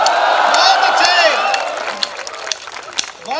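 Audience at a university event in Dehradun clapping and cheering for an address by India's defence minister, a loud burst of applause that tapers off, with crowd voices throughout.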